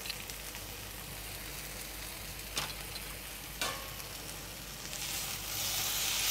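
Onion and besan sabzi frying in a pan, a steady soft sizzle with a couple of brief sharp clicks from stirring, close and fairly quiet with no talking.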